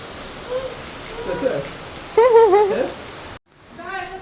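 Steady rain patters in the background while people talk over it; the sound cuts out briefly near the end before the voices resume.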